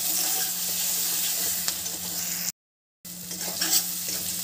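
Turmeric and chili powder frying in oil in a pan over lowered heat, a constant close sizzle with occasional stirring scrapes, briefly cut to silence midway before the sizzling resumes.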